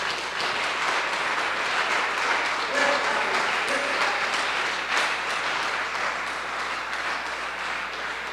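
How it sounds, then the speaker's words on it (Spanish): An audience at a religious gathering gives a strong round of applause, dense clapping filling the space for several seconds with a faint voice or tone briefly under it. "Démosle un aplauso fuerte a este Cristo."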